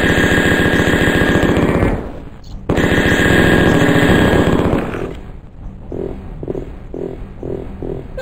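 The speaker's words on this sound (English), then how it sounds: "Grenade detonator." A grenade detonator weapon fires in the 1995 DOS first-person shooter Mortal Coil, with loud, rapid, rattling bursts that cut out briefly, resume, and then break into a series of spaced, chunky blasts.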